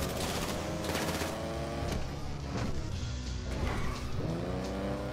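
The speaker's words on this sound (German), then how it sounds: "Was da gerade auf uns schießt." Rapid bursts of gunfire aimed at the players in a GTA 5 Online heist, crackling volleys over a roaring car engine, loud and dense from start to finish.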